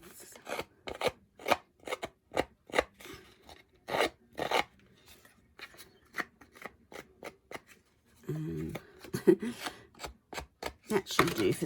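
Rubbing and rasping strokes distress a painted surface in an antique wash technique, a steady run of close, scratchy swipes, then a rougher, denser patch of scrubbing toward the end.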